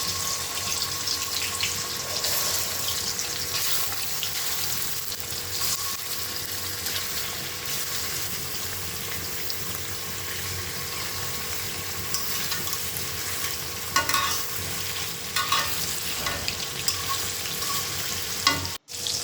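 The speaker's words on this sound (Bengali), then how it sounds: "তেল যথেষ্ট গরম হলে আমি একে একে মাছগুলো ছেড়ে দিচ্ছি।" Rui fish pieces fry in hot oil in a kadai, giving a loud, steady sizzle that runs on without a break, with a few brief clatters near the end and no talking.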